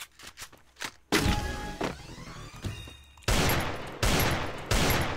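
Pistol shots in the Free Fire video game ring out as a few sharp bursts, with quicker light taps early and heavier, louder blasts later, close and without talk.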